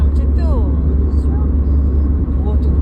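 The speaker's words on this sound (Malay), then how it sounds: "Oh, tu banyaknya truck, lori." Heavy road traffic, including large trucks and trailers, rumbles past a moving car in a steady low drone, with a child and adult chatting inside the vehicle over the engine noise.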